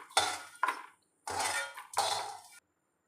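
Fried unnakka nandan being scooped out of a pan with a metal utensil, four separate bursts of scraping clatter and sizzle, close and fairly loud, with short silent gaps between them.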